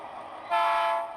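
A GP38-2 diesel locomotive on a model railroad creeps slowly into railcars during switching at a Huntington Beach industry, a steady mechanical hum swelling into a brief louder tonal whine before easing back.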